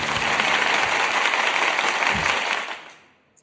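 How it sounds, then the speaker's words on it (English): A synthetic, AI-generated applause effect plays on a comedic church-style show: a loud, dense wash of crowd clapping holds steady for about two and a half seconds, then fades out to silence. "And thank you, AI applause."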